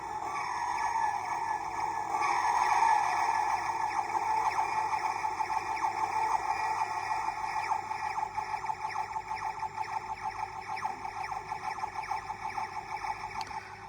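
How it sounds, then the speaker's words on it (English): A 2005 Doctor Who electronic flight control TARDIS toy plays its dematerialisation sound: a continuous warbling electronic whoosh rising and falling in waves, toy-like and fairly faint, running steadily without any voices. "Let's wait for the de-materialisation to stop first, because I want to hear that warning sound."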